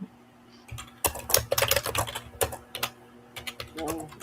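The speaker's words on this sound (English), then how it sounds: "All I hear is typing. Somebody's typing." Someone types on a computer keyboard nearby, a loud, irregular run of clicky keystrokes in bursts with short pauses between them.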